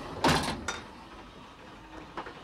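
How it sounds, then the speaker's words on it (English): Firebox door on Southern Pacific 2472, a Pacific steam locomotive, being swung shut with a loud close metallic clunk followed by a smaller knock and faint rattles. "I'll close the door now."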